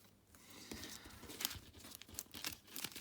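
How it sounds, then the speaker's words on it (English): Ordinary dungeon room cards for the Dungeon Universalis board game being shuffled by hand, a close, quiet run of papery riffling and snapping bursts in uneven clusters. "we shuffle these ordinary rooms"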